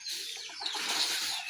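Chickens cluck and rustle at morning feeding time on a farm, a busy steady flock sound close by with a brief louder burst at the end.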